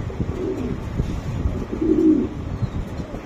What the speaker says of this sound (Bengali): এই যে কবুতরটা ফুল অ্যাক্টিভ এবং ফুটবলের মতো গোল। এই যে ডাকের স্টাইল দেখেন